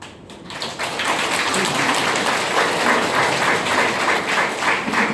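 Sustained applause from an audience at a corporate cooperative business presentation, a dense, steady patter of many hands clapping that swells after a brief quieter start and holds evenly loud throughout.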